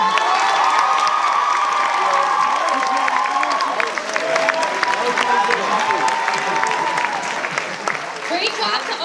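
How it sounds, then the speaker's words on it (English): A school pageant crowd applauds and cheers, loud dense clapping mixed with shouts, whoops and excited young voices, sustained throughout with some talking in the mix. "Let's give them all another round of applause"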